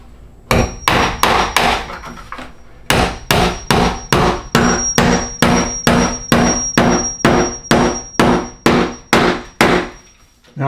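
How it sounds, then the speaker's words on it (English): A finishing nail is hammered into a shim behind an interior door hinge: about twenty sharp, evenly spaced hammer blows, close and loud, in two bursts with a short pause between them. "a finishing nail right here into the shim behind this hinge, and that'll lock it all in solidly in place"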